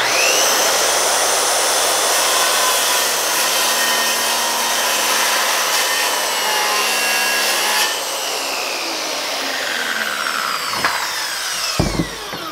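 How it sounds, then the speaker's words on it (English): A DeWalt corded circular saw, powered from a portable power station, whines loudly at high speed as it cuts through 2x4 lumber, with the motor then spinning down and a few clunks at the end. "I have plugged in my DeWalt circular saw into the power station, and I want to see if I can cut some 2x4s with it"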